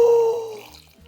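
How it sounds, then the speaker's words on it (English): Powerade poured into a bowl of glacier water over ice, a short liquid splash that fades within a second. "We're gonna take some Powerade, pour it in."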